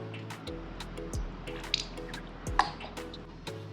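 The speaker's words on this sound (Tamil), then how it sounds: "இப்போது நம்ம முட்டை தொக்கு செய்கிறதுக்காக எண்ணெய் சேர்த்துக்கிறோம்" Cooking oil goes into a pan to start egg thokku, heard as faint drips and a soft liquid squish close by, over a low steady hum, with no talking.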